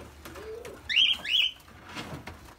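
Cockatiels, including whiteface, albino and red-eyed white birds, in a breeding aviary, giving a few bright chirps and short whistled calls close by, with a softer low call and quiet stretches between.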